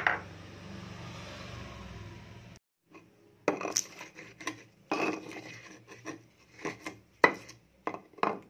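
Ingredients for bobor are ground by hand in a mortar (ulek), with a steady rasping rub followed by a run of irregular, close scraping and knocking strokes of varying loudness.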